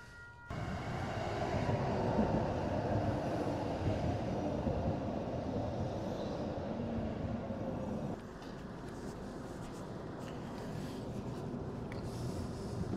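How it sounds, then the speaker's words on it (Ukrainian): Riding a metro train in Calgary produces a steady, loud rolling rumble and hiss that runs unbroken for over ten seconds, shifting slightly in tone partway through, with no talk. "Зараз я їду в метро в Калері."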